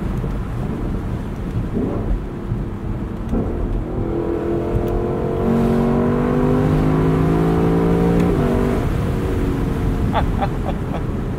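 A 2021 Lexus LC 500 Convertible engine revs and roars loudly with shifting, rising and falling tones, a steady deep rumble throughout and a few sharp clicks near the end.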